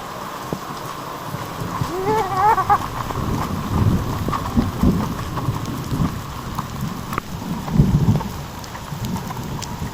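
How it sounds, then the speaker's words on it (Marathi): Summer hail and heavy rain drum steadily on surfaces in Konkan while deep thunder rumbles roll in several times, loud and close. "गारांचा पाऊस त्या बघा किती पडले."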